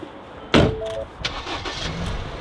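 A car engine starts on a battery boost from a second car: a sharp burst as it catches, followed by a few shorter mechanical knocks and a low running rumble, close by and with no voices.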